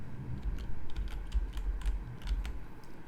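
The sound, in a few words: typing on a computer keyboard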